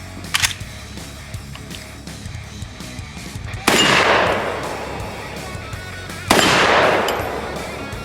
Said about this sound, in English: Alright, this is a SETME 308 battle rifle.